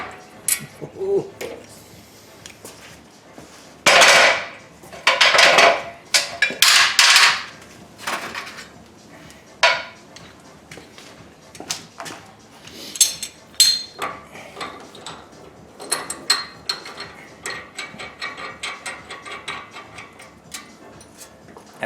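A ball joint splitter works loose the tie rod end on a Ford Focus ST, giving a run of sharp metallic clanks and knocks, some in quick clusters, followed by lighter ratcheting and clicking.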